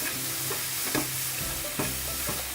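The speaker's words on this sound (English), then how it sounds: "it's just nice to add in a few extra sprays and keep on stirring" Food stirred in a hot pan after a few sprays of cooking oil, sizzling and frying steadily, with occasional scrapes of the utensil against the pan; no voices.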